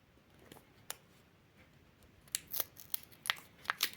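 Crisp crinkling and tearing of a paper surprise packet, a series of sharp rustles and rips that grow busier toward the end, close and fairly quiet.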